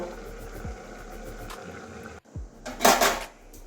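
A lid clanks down onto a cooking pot of bottle gourd with poppy seed paste, one short metallic clatter near the end over a low steady kitchen hum.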